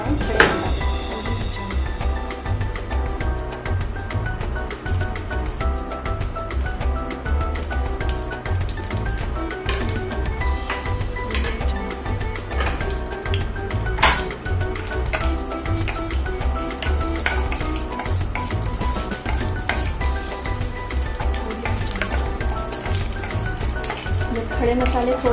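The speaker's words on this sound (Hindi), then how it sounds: "मस्टर्ड ऑयल जब हमारा थोड़ा गर्म हो जाए तो हम इसमें डाल रहे हैं खड़े मसाले।" Whole spices sizzle in hot mustard oil for a fish curry, a steady close frying crackle running throughout with occasional sharp pops and a constant tonal hum underneath.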